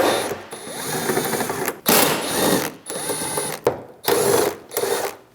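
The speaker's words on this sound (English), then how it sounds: "Remove the three 10mm bolts inside of this area." A ratchet backs out 10mm bolts on the tailgate of a 2011-or-later Dodge Durango, close and fairly loud, in several separate bursts of rapid clicking with short pauses between strokes.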